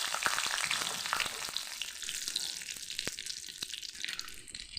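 Panch phoron, asafoetida, a dried red chilli and a small bay leaf sizzle in hot oil for a dal tempering, a soft hiss broken by sharp scattered pops and crackles.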